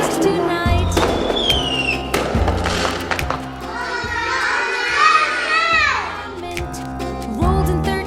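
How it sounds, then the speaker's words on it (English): Bonfire Night fireworks go off in a string of loud thumps and bangs about once a second, with crackling bursts between them, while children shout and chatter nearby. "And that's why we light fireworks tonight."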